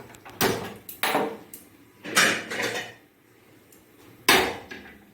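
A tawa griddle being set down on the stove: several close metallic clanks and knocks at uneven intervals, with short ringing tails and quiet gaps between them.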